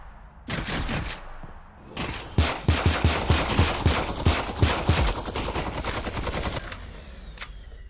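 Gunfire in a Half-Life: Alyx VR mod, first two short bursts, then a longer run of rapid, closely spaced shots with a clattering metallic edge, loud and close, ending in a final lone crack.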